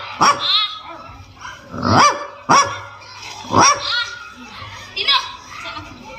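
A dog barks in a handful of sharp, separate bursts at irregular intervals nearby, with quieter background sound between barks.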